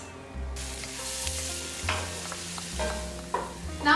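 Chopped onions frying in oil for saag paneer, a loud continuous sizzle close up, with a low hum underneath and occasional scraping stirs and light clinks.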